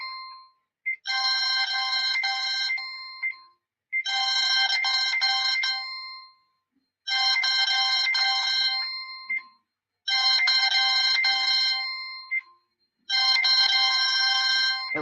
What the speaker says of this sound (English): somebody's phone.